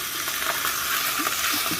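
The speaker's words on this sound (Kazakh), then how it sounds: "Қызып тұрған сковородкамызға бір қасық май құйып, фаршымызды қуырып алатын боламыз." Minced meat fries in a hot pan with a spoonful of oil, giving a dense, steady sizzle with soft stirring scrapes, close up and without voices.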